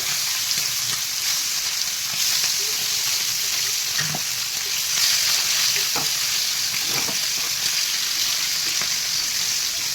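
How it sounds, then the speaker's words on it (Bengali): Pakal fish fry in hot oil with a steady, loud sizzle. The crackle holds for the whole stretch, with a few soft clinks and stirring knocks and no talk. "তেল আমার গরম হয়ে গেছে আমি মাছগুলো আস্তে আস্তে ছেড়ে দেবো"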